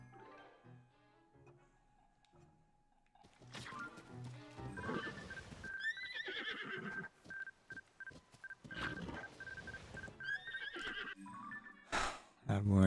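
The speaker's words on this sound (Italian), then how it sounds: "Cavallo." A horse neighs in the video game Zelda: Tears of the Kingdom, its whinny rising over beeping game tones and other in-game sounds at moderate loudness.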